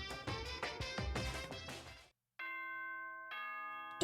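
Announcement chime from the Danganronpa video game, a sustained two-part bell tone ringing clearly after a brief burst of music and a short gap.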